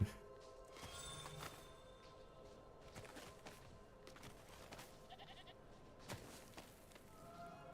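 Goats bleat in the video game Diablo IV, a few short, faint bleats scattered over a quiet ambient game soundscape with occasional soft effects.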